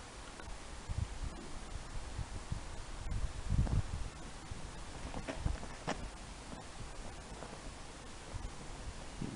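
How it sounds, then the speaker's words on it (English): Gusty wind buffets outdoors with soft rustling and occasional low thumps against a microphone, fairly quiet and continuous. "You can see it's a bit windy"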